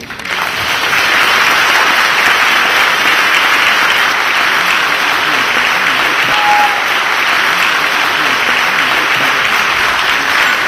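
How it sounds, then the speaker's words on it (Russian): A large audience of network-marketing company representatives applauds in a hall, a dense, loud, sustained roar of clapping that swells in quickly and stays even for about ten seconds. "И давайте поприветствуем друг друга аплодисментами"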